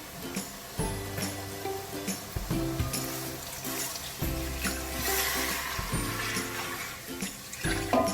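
Water from large glasses pours into a pot holding a mutton raan, splashing and gurgling in several close bursts with brief pauses between them, loud and with no voices.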